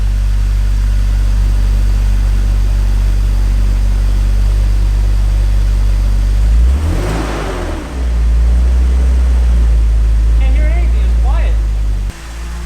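A car with a Magnaflow catback exhaust idles with a deep exhaust rumble, then revs briefly midway before settling back; a voice talks faintly near the end.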